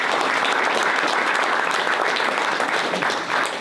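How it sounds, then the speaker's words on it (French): Steady applause from an audience at a local talent awards ceremony fills the room, dense and continuous clapping at close range with no voices breaking through. "qu'on peut applaudir aussi"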